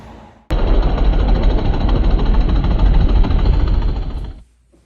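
A motorcycle engine starts abruptly and runs loud and close with a steady rough rumble for about four seconds, then cuts off into near silence.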